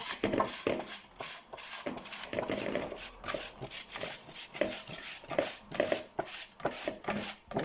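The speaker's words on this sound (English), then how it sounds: "So I'm going to grate this into my bowl, not the greatest grater." An onion rubbed against a hand grater into a bowl for Lithuanian kugelis, making repeated rasping scrapes in an uneven rhythm, close and moderately quiet, with no speech.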